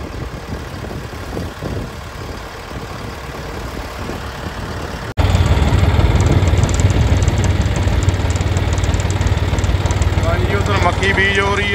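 A tractor engine drones steadily in a field while maize is being sown, loud and close. After a brief dropout the engine returns even louder with a rough, rumbling running note.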